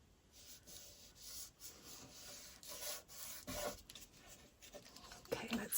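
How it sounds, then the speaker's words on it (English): A finger rubs excess glue off a paper envelope pocket in a junk journal, making faint, close, dry scuffing strokes in an uneven rhythm with a few soft taps, quiet throughout. "Let's rub off any extra glue there."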